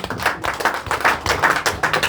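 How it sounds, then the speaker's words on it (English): Audience applause for the Speaker at an evening event with young leaders, a short burst of close, fairly loud hand clapping in uneven rhythm with no talk over it. "Please clap for Mr. Speaker."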